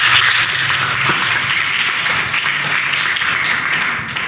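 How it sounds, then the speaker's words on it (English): Students applaud in a classroom, a steady wash of many hands clapping together at close range for several seconds without a break. "Clap for him."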